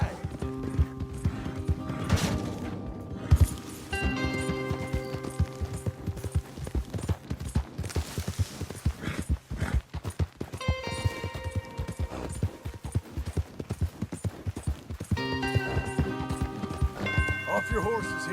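Horses gallop in the Western video game Red Dead Redemption 2, giving a continuous, rapid clatter of hooves with a busy background and bursts of music or effects. People talk over the hoofbeats.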